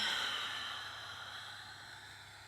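A long, steady breath pushed out through the nose and mouth during a power vinyasa yoga flow. It is a soft, airy hiss that fades gradually over a couple of seconds, quiet and close, with no talking.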